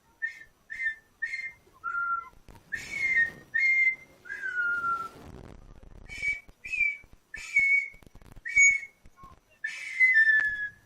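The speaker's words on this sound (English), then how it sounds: "whistling in a microphone" A person whistles a simple melody close-up, short clear notes in a bouncy rhythm with brief pauses between phrases, and no talking.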